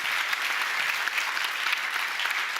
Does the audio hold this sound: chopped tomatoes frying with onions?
no